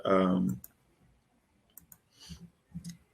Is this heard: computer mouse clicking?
yes